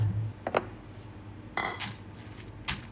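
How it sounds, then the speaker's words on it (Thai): A pestle pounds Thai chili curry paste of garlic, shallots and fresh and dried chilies in a mortar, giving a few spaced, moderately loud thuds and clinks over a quiet kitchen background. "จากนั้นจะโขลกพริกแกงค่ะ"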